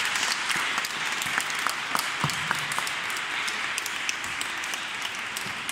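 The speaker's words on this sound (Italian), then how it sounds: "chiedo un calorosissimo applauso" A congregation at a sanctuary applauds its choir director, warm continuous clapping with distinct individual claps standing out against a steady, moderately close wash of hands.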